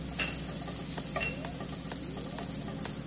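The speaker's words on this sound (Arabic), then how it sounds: "منحط المشروم، ومنترك كمان المشروم تقريبا شي دقيقتين مع البصل" Sliced mushrooms fry with softened onions in a pan, giving a steady, close sizzle with occasional stirring scrapes throughout, no voices.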